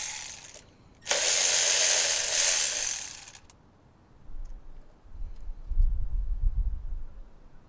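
A hand ratchet works a 12mm bolt on the vacuum system mount of a Toyota Tercel engine: a loud, continuous burst of rapid clicking for about two seconds, then quiet, low rustling and handling of parts.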